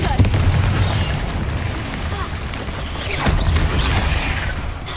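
Repeated Confringo blasting spells burst in a video game, a dense stretch of booming explosions and crashing debris with a rolling low rumble, loud and close.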